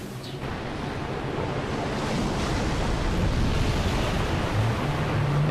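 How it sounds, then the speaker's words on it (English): Heavy water splashing and churning as a giant colossus flails in a lake in Shadow of the Colossus, a steady broad wash of surf-like noise with low rumbling throughout, no talk. "There he goes, just flailing around in the water."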